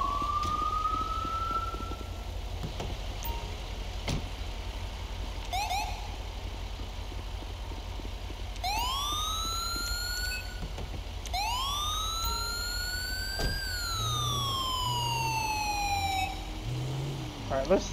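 A fire truck siren in GTA 5 with the LSPDFR mod wails in rising and falling sweeps, fading in and out over a steady low vehicle rumble, with short whoops between the longer cycles.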